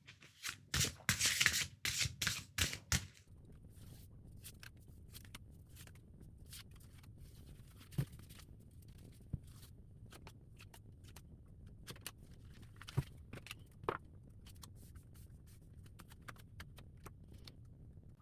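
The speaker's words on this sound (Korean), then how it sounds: "이 사람 속마음을 제가 타로 카드를 통해서 좀 더 뽑아보도록 하겠습니다." Tarot cards shuffled briskly for a few seconds, a dense run of close papery riffles and slaps, followed by sparse, faint clicks and taps as individual cards are drawn and laid down against a quiet low room hum.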